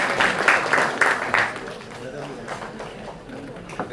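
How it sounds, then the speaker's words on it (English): Audience applause at a film festival panel welcoming a moderator to the stage, a dense steady patter of hands that swells early and then fades, with a voice speaking over it. "Please welcome Mr. Rohini Ramanathan to the stage with another round of applause."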